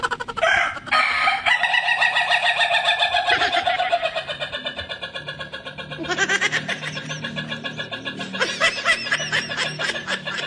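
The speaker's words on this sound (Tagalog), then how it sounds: "Biritera ay yung manok." A rooster crows loudly and close by, several drawn-out calls in a row with clucking squawks between them, heard on its own without voices.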